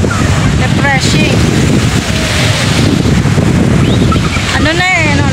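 Steady strong wind roars across the microphone by the sea, with distant surf and brief voices murmuring in the background.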